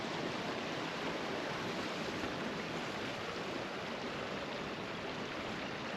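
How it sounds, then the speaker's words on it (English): A small stream runs past an old mill with lime kilns on the Isle of Lewis in the Outer Hebrides, giving a steady, even broadband rush of flowing water with no voices and no breaks. "There's a little stream running through which is to help bring the water up"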